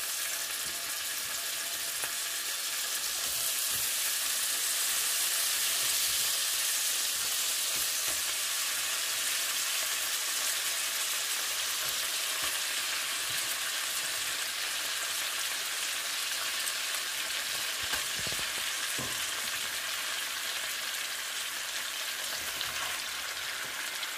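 Shrimp fry in salted butter in a pan, giving a steady, dense sizzle that hisses on without pause for the whole stretch, with no talking.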